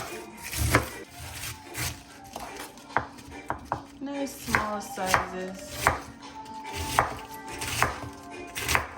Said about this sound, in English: We're gonna start cutting our veggies. So we're doing the cabbage first.